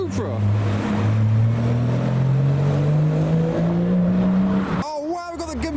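Toyota Supra rumbling past at a car show, a loud, rising engine drone that builds steadily then cuts off abruptly, with a voice speaking briefly afterward.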